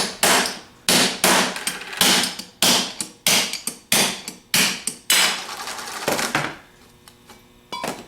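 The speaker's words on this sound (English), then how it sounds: "get a 3/8 extension and a hammer, and tap the bearing out." Repeated sharp metallic hammer strikes on a 3/8 extension, tapping a bearing out of an alternator, roughly one every half second, each ringing briefly before the next, close and loud with no talking.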